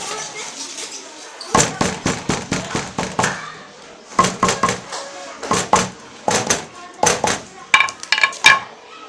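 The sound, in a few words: hammer tapping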